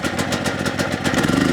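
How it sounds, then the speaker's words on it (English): A portable generator engine catches and runs with a loud, close, mid-pitched chugging clatter, pulsing rhythmically and picking up slightly toward the end, with no voices over it. "Now let's go ahead and plug it in the generator and get it started."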